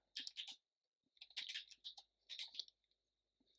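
Keystrokes on a computer keyboard while a command is typed, in quick bursts of clicky taps separated by short pauses, close and fairly quiet with no talking.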